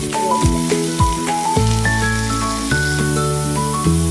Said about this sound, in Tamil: பொன்னிறமாக வதங்கும் வரை அதை நன்றாக கிளறுவோம்.